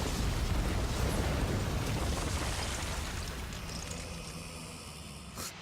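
Armored Titan in the Attack on Titan: Wings of Freedom video game venting steam, a loud, steady broadband hiss with a deep rumble that slowly fades, ending in a brief sharp burst.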